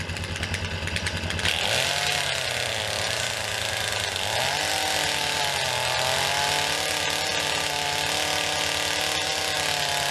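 A chainsaw, run by someone standing on a ladder, runs continuously at close range, a loud buzzing whine that rises and dips as the throttle changes, with no talking.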